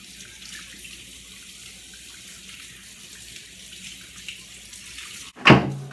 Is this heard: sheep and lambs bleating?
no